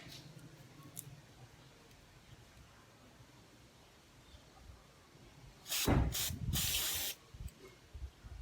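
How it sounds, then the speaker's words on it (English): Electric contact cleaner sprayed into a SYM Jet Euro scooter starter motor, a few loud hissing bursts close to the mic after a quiet stretch. "You can use this electric contact cleaner"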